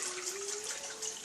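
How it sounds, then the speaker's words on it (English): Water pours and splashes steadily as soaked rice drains through a sifter over a kitchen sink for Liberian jollof rice, a close continuous gushing rush without pauses. "Make sure all the water is drained with your sifter"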